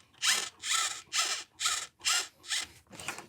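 Screws are driven in with a small power driver to fix the rudder on an E-flite 1.0m Gee Bee R-2 RC plane. The driver gives seven short, evenly spaced whirring bursts, close and clear, with no talking.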